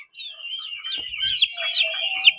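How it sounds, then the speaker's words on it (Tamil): Young 45-day-old country chickens give a steady run of high, thin peeping and chirping calls. A few lower calls rise partway through. No one speaks. "இது 45 நாளான கோழி தாங்க."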